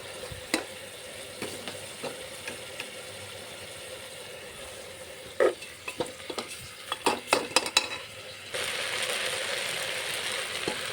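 Rice and lentils tipped into a pot and stirred together while making khichuri, with a soft scrape and a cluster of clinks and rattles near the middle, then a steady hiss of cooking through the final seconds. Close and fairly quiet, with no talk.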